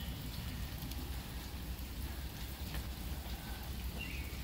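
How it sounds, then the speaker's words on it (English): Light rain falling on a Smittybilt Overlander rooftop tent, a constant close patter and hiss of drops on fabric, steady and even with no talk. "it's just a real light rain coming down."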